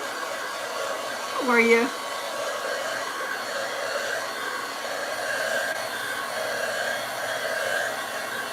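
A hair dryer runs steadily, blowing on a gingerbread craft platter, a continuous whirring hiss filling the whole stretch as someone briefly speaks near the start.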